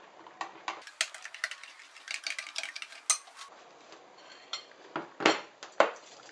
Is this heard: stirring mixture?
yes